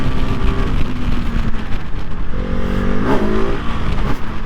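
A KTM 690 SMCR single-cylinder supermoto motorcycle is ridden hard under acceleration, its engine note climbing through rising revs with shifts and a loud, close, rasping pull.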